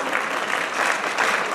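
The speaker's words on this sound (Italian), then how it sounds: "Facciamogli un applauso come si deve." Audience at a youth, politics and Europe conference in Sapri applauds steadily, a dense, even wash of many hands clapping at close range with no one talking over it.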